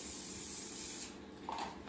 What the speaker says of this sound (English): So we're going to take our greasing oil, give it a spray